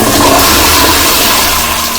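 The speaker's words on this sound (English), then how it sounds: "So, as the killer stood up, Tom triggered the flush again." A toilet flushing in a restroom, loud and close, a continuous rushing swirl of water that holds steady and eases off only slightly by the end.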